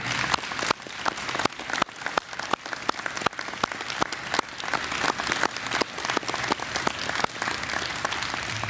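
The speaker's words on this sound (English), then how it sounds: "Give them a round of applause, please." An audience applauds veterans at a groundbreaking ceremony, with dense, sustained clapping that stays strong and even across the whole stretch.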